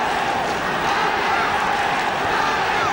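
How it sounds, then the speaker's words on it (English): A 1970/71 football crowd at a Crystal Palace v West Ham match roars steadily behind Crystal Palace, a dense, sustained wall of cheering voices that stays loud and even throughout. "The crowd really getting behind Crystal Palace now."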